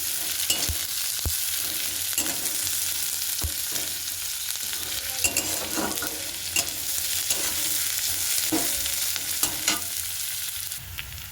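Sliced onions frying in a pan for a pointed gourd and goat fat curry, with a steady close sizzle and sharp scrapes of a spatula stirring at irregular intervals; no one speaks.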